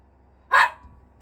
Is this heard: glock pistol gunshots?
no